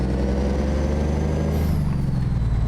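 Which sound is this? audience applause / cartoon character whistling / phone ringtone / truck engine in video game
truck engine in video game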